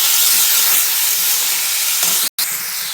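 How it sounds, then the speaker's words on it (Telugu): Curry leaves tossed into hot oil, a dense steady sizzle and hiss filling the moment, with a brief sharp break just past two seconds before the frying resumes. "కరివేపాకు వేసుకుందాం ఫ్రెండ్స్"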